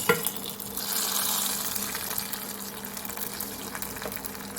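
Hot mustard-seed tempering is poured into cabbage sambar, giving a sharp burst of sizzling at the start that settles into a steady bubbling hiss, close and moderately loud, with no talking.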